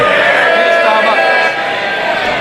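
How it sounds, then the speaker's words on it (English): Members of parliament in the House of Commons cheering the Prime Minister, a loud, continuous, dense roar of many voices that dips slightly toward the end. "the sound you hear is them cheering the Prime Minister"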